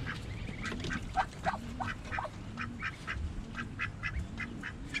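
Young ducks, a runner and Muscovy mix, making continual close quacks and raspy calls in an uneven, chattering rhythm, with no talking.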